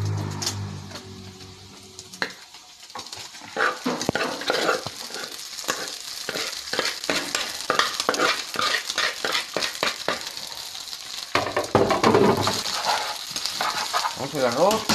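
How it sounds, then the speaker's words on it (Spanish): Rice stirred and frying in rendered bacon fat in a pan, a steady close sizzle with repeated scraping stir strokes throughout, briefly louder near the end. "le podemos poner poquita de nuestra grasita que soltó el tocino"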